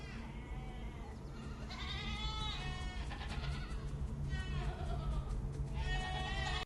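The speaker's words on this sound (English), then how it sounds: "I love all the goats in the background." Goats bleat repeatedly through a scene from the TV series Severance, several wavering calls overlapping one another, mid-distance and fairly clear over a dense steady background murmur, with voices present.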